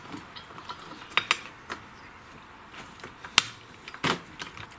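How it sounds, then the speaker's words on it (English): A hand screwdriver tightens screws on the ignition coil of a STIHL FS55 weed trimmer, giving faint scattered clicks and ratcheting ticks against a quiet background. "I'll be tightening up the screws by hand manually with a screwdriver"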